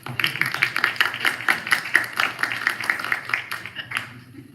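A group at a city council retreat bursts into clapping, a brisk run of close, overlapping handclaps that tapers off near the end.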